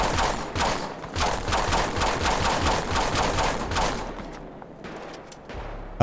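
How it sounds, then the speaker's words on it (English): Rapid bursts of gunfire in GTA 5 crack loudly and repeatedly for several seconds, a dense volley of shots aimed at the player that thins out toward the end. "Uh-oh, somebody's actually shooting at me."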